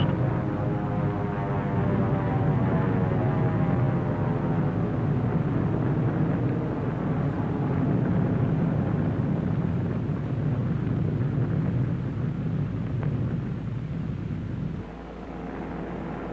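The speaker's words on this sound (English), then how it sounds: "Here is one of the drone airplanes flying over the target fleet after the blast." A drone airplane passes over a target fleet after a nuclear blast at Bikini, its engine drone steady and fairly loud with rough wind-like rumble, fading slightly toward the end.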